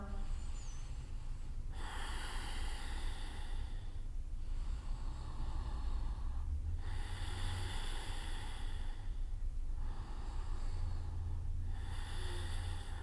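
Slow, deep breaths taken during a yoga class, with long airy inhales and exhales recurring steadily every few seconds over a constant low rumble, heard close and with no talk.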